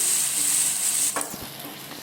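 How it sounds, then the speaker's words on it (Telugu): Dal stirred into a sizzling tempering in a pan: a loud, steady sizzle at first, then the hiss breaks up into scraping stir strokes and splashy bursts as the lentils are mixed in. "పప్పు మొత్తం ఇందులోనే వేసుకుందామండి పోపు మొత్తం కలిసే విధంగా కలుపుకుందామండి"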